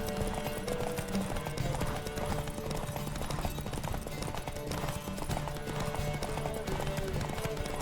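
Fast, continuous hoofbeats of a horse galloping at speed in a race in the video game The Witcher 3: Wild Hunt, loud and busy, with a dense layer of background noise throughout.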